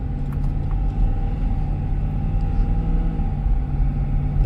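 A 2024 Ford F-350 Super Duty Lariat dually pickup with a 10-speed transmission cruising on the road, heard from inside the cab as a steady low engine and road rumble with faint tire noise, constant and unbroken.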